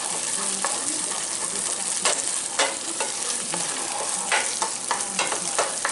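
Chorizo sizzles and crackles steadily in a pan, with occasional sharper scrapes and taps of a utensil stirring it; close and continuous, no talking.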